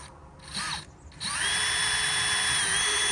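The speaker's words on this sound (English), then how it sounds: "Pre-drill." A power drill bores a pilot hole into a wooden lath strip: two short whirring bursts, then a steady high-pitched spin that holds for about two seconds, close and loud.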